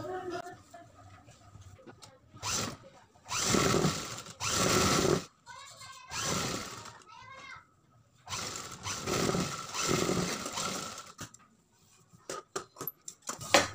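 A sewing machine stitches blouse fabric along a pasted edge for a back-neck design, in several separate bursts of whirring, rattling stitching close by, with quiet gaps and small handling clicks in between.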